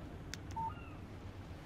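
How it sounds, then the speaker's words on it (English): In the Alan Wake video game, a phone's text message alert plays as a short electronic beep over a low ambient hum, faint and isolated. "Text message from Barry"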